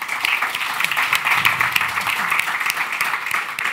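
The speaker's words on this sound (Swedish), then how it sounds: "En stor applåd till Lotta och Therese." A seminar audience in Almedalen gives a warm round of applause for two politicians, with many hands clapping in a steady, even patter close by.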